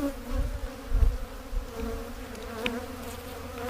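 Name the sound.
honey bees buzzing around a hive frame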